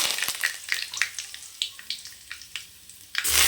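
Mustard seeds, urad dal and curry leaves crackle and sizzle in plenty of hot oil for a South Indian chicken gravy, with sharp irregular pops and spatters over a steady frying hiss, close and fairly loud, no talking.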